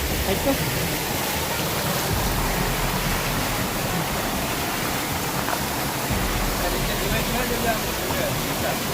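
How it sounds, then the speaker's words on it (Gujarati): A mountain waterfall in a forest, heard as a dense, steady broadband roar of falling water that stays loud and unbroken for the whole stretch, with no distinct events rising above it. "જોલો ધોધ પડે ઉપર"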